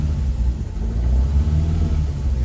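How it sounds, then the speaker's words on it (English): Cold Lotus Cortina engine idling at low revs, a close, steady, deep rumbling burble with slight unevenness and no talking over it. "I'm not going to give it lots of revs because it's a cold engine"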